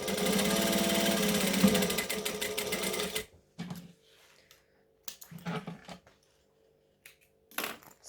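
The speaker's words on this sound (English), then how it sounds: "I'm stitching over that seam allowance to hold it down flat." A domestic sewing machine stitches steadily for about three seconds over a folded seam allowance on a pocket, a loud continuous whirring hum, then stops, followed by brief quiet handling clicks and short bursts of fabric movement.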